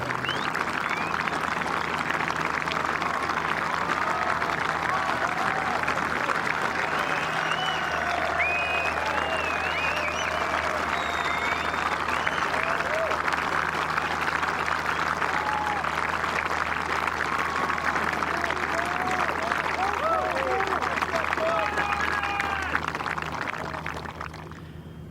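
A huge grandstand crowd beside the 17th green, the Road Hole, at The Open golf championship breaks into loud, sustained applause and cheering for Paul Dunne, a dense wall of clapping that holds steady for over twenty seconds.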